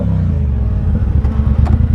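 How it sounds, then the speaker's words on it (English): An engine is given a short rev, a loud, close low rumble that swells briefly with a rough, throbbing texture over two seconds. "I'll give him a little rev."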